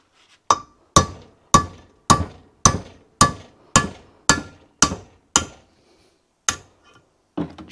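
A short-handled 2-pound hammer drives engine valve guides out of an Allis Chalmers C engine with ten sharp metallic blows in steady rhythm, then a pause and two more strikes, close and loud with no talking.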